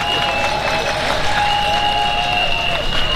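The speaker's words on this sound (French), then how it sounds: "On acclame" A large crowd at a political party congress in Cocody, Côte d'Ivoire, applauds and cheers as a constant roaring wash of clapping and voices, with a sustained whistle-like tone running through it.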